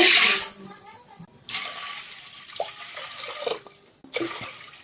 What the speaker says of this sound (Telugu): రెండు చెంబులు నీళ్ళు పోసుకోవాలి